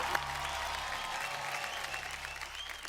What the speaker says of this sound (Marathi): एकदा जोरदार टाळ्या ऋतुजा राणेसाठी.